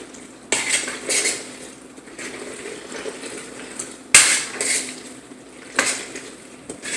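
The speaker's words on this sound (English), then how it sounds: "I'm just going to add all of that into the pasta and mix all of that up" Meat sauce for baked ziti being mixed into pasta with a utensil, giving a few sharp clanks against the pot spaced a second or more apart, with soft stirring noise between and no talk.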